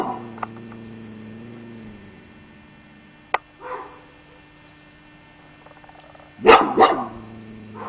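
A dog at a family reunion gathering outside a church gives a couple of sharp barks near the end, after a faint earlier yelp, over a steady low hum with no talking.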